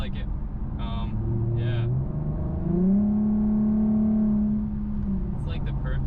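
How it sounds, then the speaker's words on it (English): Infiniti Q50 with a custom exhaust revving, a droning engine tone that climbs and holds in a rev near the middle, with brief voices talking before and after. "Sounds like an expensive exhaust, which it's not that expensive when you compare it to other Q50 exhausts."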